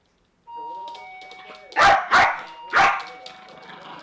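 A pet dog barks indoors at home, three loud sharp barks close to the mic, with a steady household hum and faint background tones underneath.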